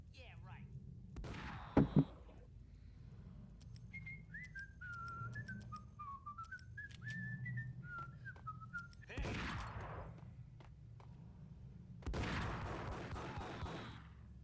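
A descending, wavering whistle of a falling bomb in the video game Max Payne sounds mid-distance, framed by gunshot-like bangs and bursts of noise, with faint game dialogue underneath.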